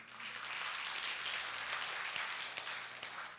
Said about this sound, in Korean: 박수 한번 쳐줘야 되겠어요.